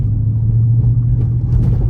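A Dodge Scat Pack 392 widebody's engine rumbles deep and loud from close by in a short, steady burst while driving through the gears.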